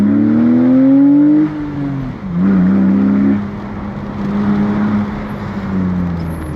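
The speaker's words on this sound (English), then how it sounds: "Downshift, use the engine to brake, and now we can accelerate." A BMW Z4 E85 engine revs high, drops in pitch as it downshifts, then holds a steady strain while accelerating on the Stelvio Pass mountain road, loud and close.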